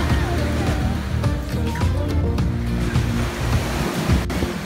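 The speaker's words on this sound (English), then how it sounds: "Welcome to Panglao Beach." Ocean surf rolls in steadily at Panglao Beach in Bohol, a broad continuous wash of breaking waves with some wind buffeting, while people chat nearby over the water noise.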